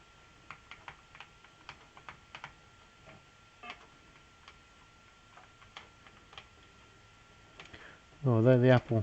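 Keys on an Apple IIe computer keyboard tapped in sparse, irregular single clicks, faint and close, with a short loud tonal burst from the machine at the end.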